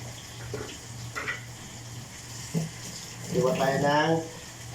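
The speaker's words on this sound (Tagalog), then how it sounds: "hinulog ko na yung kamatis" Tomato dropped into a hot pan for a fish dish gives off a steady, moderate frying sizzle with a couple of soft knocks. A voice speaks briefly over the sizzle near the end.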